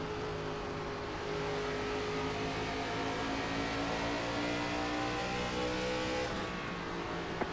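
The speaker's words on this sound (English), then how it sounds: "Whole lot of cars heading our direction." Race cars in the iRacing ARCA Series at Bristol drone loudly and steadily, several engines blending into a continuous roar with shifting pitch as the pack runs close.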